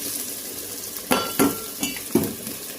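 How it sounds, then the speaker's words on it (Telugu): Bitter gourd pieces drop into hot oil in a pan and fry with a rising sizzle, broken by several sharp clinks and scrapes of a spoon stirring against the metal, close and fairly loud with no talk. "ఇప్పుడు మనం కాకరకాయ ముక్కలు వేసుకుందాం"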